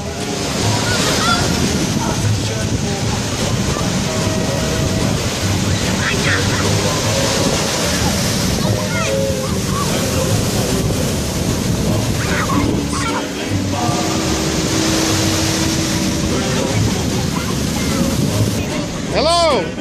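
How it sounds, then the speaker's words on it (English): Big surf crashing on the shore at Maui, Hawaii, in 30 mph wind: a continuous loud roar of breaking waves and wind buffeting, with people talking and calling out over it throughout. "We're at Maui, Hawaii, in 30 mile an hour surf."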